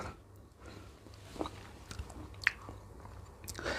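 A bite into a fresh, juicy peach, with a brief wet crunch at close range followed by soft chewing and squishing against a quiet background.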